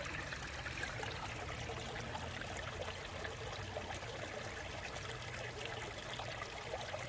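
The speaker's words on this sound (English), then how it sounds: "You can see where this stream is coming down" A woodland stream flows over stones among serpentine, schist and quartz, a continuous steady trickling and babbling rush of water, even in level, with no voices.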